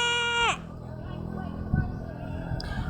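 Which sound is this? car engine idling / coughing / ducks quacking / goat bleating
goat bleating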